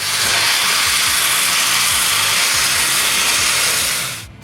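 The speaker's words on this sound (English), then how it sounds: "I finish by sanding them." Round wooden game pieces are being sanded, producing a loud, steady hissing abrasion with faint rhythmic low thumps, running continuously and then cutting off abruptly at the end.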